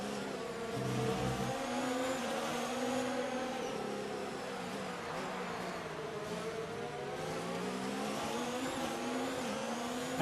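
Formula 1 race cars in the F1 2020 game at the Australian Grand Prix whine and rev steadily, engine pitch sweeping up and down as they run, continuous and moderately quiet.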